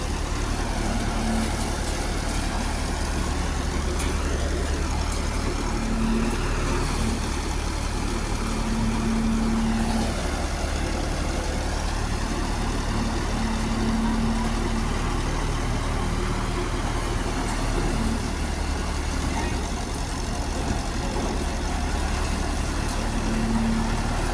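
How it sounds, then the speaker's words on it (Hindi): A tractor threshing paddy on a farm in Bihar, giving a continuous droning engine rumble with a recurring higher hum that comes and goes, steady and loud throughout with no talking. "धान की कैसे दौनी होती है वो। और आप लोग भी ऐसे करवा सकते हो, ट्रैक्टर के साथ हो रहा है"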